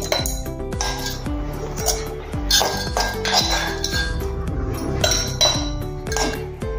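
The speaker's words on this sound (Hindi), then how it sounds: "इसमें बर्फ का चूरा डालेंगे दोनों ग्लास में" Crushed ice clinks and rattles into two glasses while preparing raw mango and mint panna, a steady run of close, bright glassy clatter with repeated scoops and taps, no talking.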